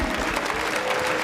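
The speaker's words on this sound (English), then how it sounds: "he's now getting a sporting round of applause from a knowledgeable Liverpudlian crowd" Applause from a Liverpool boxing crowd at a European bantamweight title fight, a dense steady clapping roar that fills the space with even loudness throughout.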